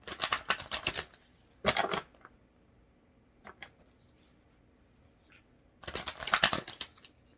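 Crisp papery riffling of tarot cards being shuffled nearby comes in three separate bursts with quiet gaps between, with a few faint taps in between.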